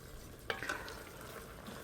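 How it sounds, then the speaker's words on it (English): Quiet stirring of aloo keema in a pan just after chopped green coriander goes in, with a soft scrape or tap near the start over a faint, steady sizzle. "I'm going to drop it in. And I'm going to mix it up."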